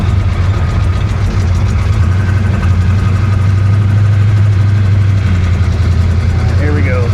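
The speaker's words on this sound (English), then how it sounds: "that engine's already making horrible noises" A hurricane flood-damaged 1966 Chevy Impala with a 427 engine runs with a loud, steady low rumble and rough drone throughout, heard close up from inside the car.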